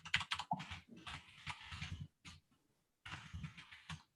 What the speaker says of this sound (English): Right from my keyboard, I got the mechanical thing going.